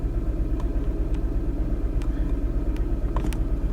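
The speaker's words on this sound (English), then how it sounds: "Now I have a cylinder 4 misfire." The engine of a Mini Cooper S with a cylinder 4 misfire runs with a loud, close, uneven rumbling pulse, a steady rhythmic throb marked by scattered clicks and ticks.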